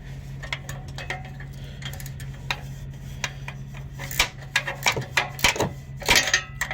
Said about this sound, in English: I was able to get my wrench from this side and start working this bolt out